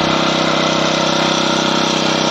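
Honda F300 petrol power weeder engine running close by, a loud, steady mid-pitched putter with a fast regular firing pulse throughout, no talk heard.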